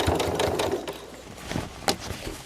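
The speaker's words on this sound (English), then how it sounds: "I know that with my sewing machine, I can go over those pins." Sewing machine stitching pinned quilt blocks, sewing straight over the pins, in a steady rapid mechanical rattle that pauses briefly and then resumes with a couple of sharper clicks.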